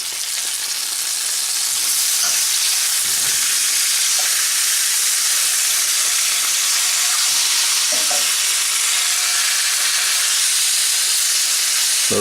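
Food sizzles and fries steadily in a pan with onions, cooking slowly over low heat. A dense, continuous hiss runs throughout, with a few faint stirring knocks.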